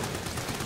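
Brief burst of gunfire in the video game Amnesia: The Bunker, fired by someone else, a short dense crackle of shots lasting under a second at moderate volume.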